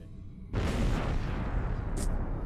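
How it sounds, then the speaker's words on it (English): A starship explodes in the space game Star Trek Online, a sudden loud burst that becomes a sustained rumbling roar, with a brief sharp crackle near the end. "You heard the explosion? Yep, that was one of our ship deciding that it's time for them to go"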